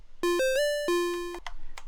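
A Dirtywave M8 tracker plays a chiptune note sequence with a pitch slide set to 3, giving clean square-wave tones that glide between pitches, followed by a few short percussive blips, heard alone.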